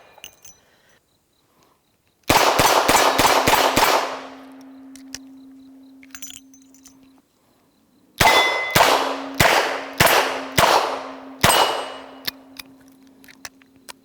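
A Smith & Wesson Model 19 snub-nose revolver fires .38 Special and .357 Magnum rounds in two rapid strings of five or six loud, sharp cracks, separated by a pause, with a faint ringing hum lingering after each string.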